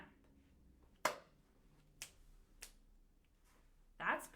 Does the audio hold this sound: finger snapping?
yes